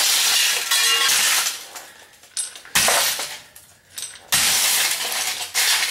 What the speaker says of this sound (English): Knock that VCR up for you.